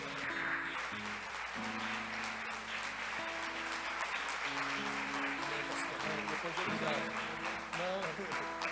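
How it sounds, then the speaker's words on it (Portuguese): Church congregation applauding during a service, steady crowd clapping under sustained music tones, moderately loud and continuous throughout. "Aplauda Jesus."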